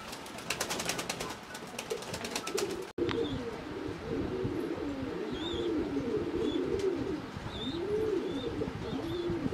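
Lahori pigeons cooing steadily in a loft, a series of low rolling coos repeating close by over a busy background. Brief bird chirps and some wing or handling noise are mixed in near the start.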